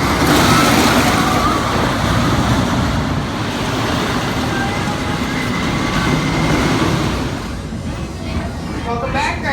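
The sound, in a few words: Renegade roller coaster train ride at Valleyfair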